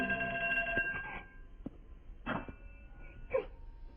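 A telephone rings with a steady electronic tone that stops after about a second, followed by a few short muffled bumps in an otherwise quiet room.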